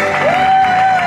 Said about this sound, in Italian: più forti questi applausi per tutti loro